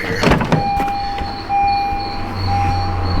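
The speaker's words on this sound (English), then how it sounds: "I'm gonna open the door here" A car door swings open in a vehicle with every dashboard warning light on, a clunk of the latch followed by a sustained electronic chime and a steady warning tone, close and loud, no talking.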